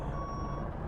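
A garbage truck in American Truck Simulator sounds its reversing alarm as one steady, loud electronic tone that fills the brief moment without pause.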